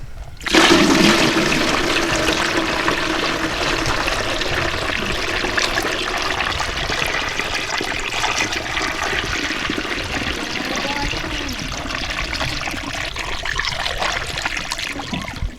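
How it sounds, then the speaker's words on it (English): Apple cider pours steadily through a funnel into a jug, a continuous loud gushing, gurgling stream that keeps going from start to finish with no talk over it. "We're gonna funnel it into a jug."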